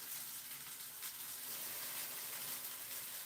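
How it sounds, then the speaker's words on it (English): A faint, steady hissing sizzle of beer poured into a hot pan continues evenly throughout without talk. "You can tell if it's hot if you pour a little bit of beer into it."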